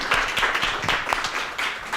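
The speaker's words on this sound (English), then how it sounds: "give a huge round of applause to Ms. Irma De Leon" An audience at a real estate leasing talk claps for a speaker, a moderately loud round of individual claps blending into steady applause throughout.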